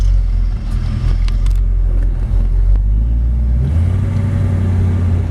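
A 1932 Ford Deuce convertible roadster pulls away on a short drive around a storage unit, its engine a loud, steady low rumble that swells slightly toward the end, with no talking.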